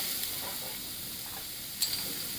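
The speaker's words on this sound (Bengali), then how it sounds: "আর তার সঙ্গে এই যে গাজরটা গ্রেট করে রেখেছিলাম, আর ছোট্ট ছোট্ট করে বিনস কেটে রেখেছিলাম, সেটা অ্যাড করলাম। অ্যাড করার পরে এটাকে একটু হালকাভাবে নেড়ে নেব।" Grated carrot and chopped beans fry in a pan with a steady, soft sizzle and hiss, broken by a few light scraping clicks from stirring.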